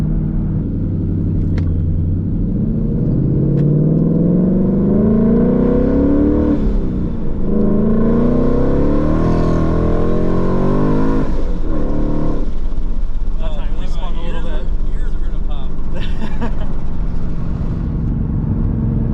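ProCharged Ford Mustang accelerating hard, a loud rising supercharged engine note climbing through gears with a brief chirp of wheelspin, continuous and close throughout.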